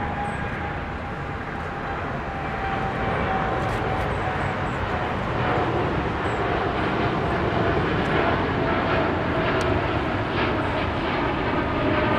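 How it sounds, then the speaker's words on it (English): A Boeing 787 Dreamliner jet airliner passes at LAX with a broad, steady engine roar that swells gently and holds for several seconds, loud and fairly close, with a faint tonal whine inside. "Here comes a Dreamliner."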